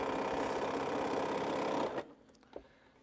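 Home sewing machine stitches a scant quarter-inch seam on a quilt strip, a steady fast whirring hum for about two seconds that stops abruptly, leaving quiet room noise and a small click.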